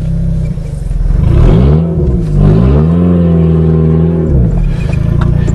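An Eagle Talon with a close-ratio gearbox and no power steering revs hard, its engine pitch climbing and falling through a shift then rising again, loud and close from inside the car.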